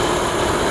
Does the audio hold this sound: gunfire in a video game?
no